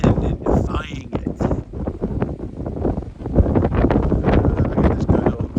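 Strong, chilly high winds buffet a hilltop, roaring steadily and gusting hard against the microphone while someone talks over them.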